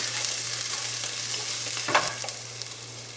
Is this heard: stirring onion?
yes